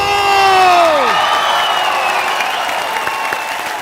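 A studio audience on a comedy talk show erupts in loud cheering, whoops and applause welcoming a superstar guest, with music tones sweeping down early and the crowd roar staying full throughout.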